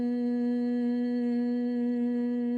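A steady, sustained low hum with a buzzing quality, held evenly without a break, like a voice imitating a bumblebee on a long exhale.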